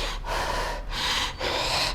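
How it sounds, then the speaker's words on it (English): Three sharp, loud gasps for breath come close together in a rapid, rhythmic panting pattern. "He thought, gasping for breath,"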